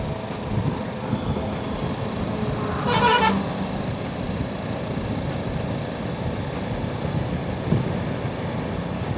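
Dense road traffic heard from a Honda Africa Twin motorcycle, with a continuous engine and wind rumble and one clear car horn toot near the start, plus a fainter later beep, loud and close.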